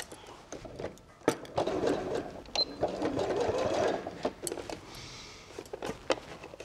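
A sewing machine stitches a fabric strap for a cutlery roll, a soft close whirring punctuated by clicks and taps, fading in the second half to quieter handling noises.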